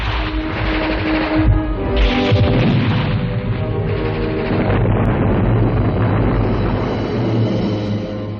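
Howitzer batteries firing in a First World War battle, heavy continuous booming and rumbling explosions that roll loudly without pause.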